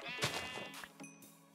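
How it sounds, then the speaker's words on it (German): Sheep bleating in the Minecraft video game, a few short game bleats close by, repeating over one and a half seconds with faint game sounds underneath. "Ich habe Schafe gefunden!"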